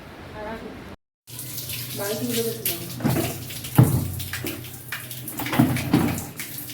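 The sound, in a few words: water running for a baby's bath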